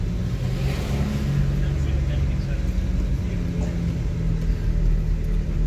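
Small local town bus on Samos idling and running close by, a steady low engine rumble throughout with people talking over it.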